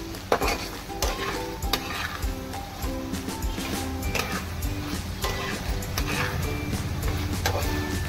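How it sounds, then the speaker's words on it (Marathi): Fried okra for dahi bhendi is stir-fried in a pan, a continuous close sizzle under frequent clinking, scraping strokes of a spatula against the metal. "फ्राय केलेली भेंडी टाकूया. दोन मिनिटं परतूया."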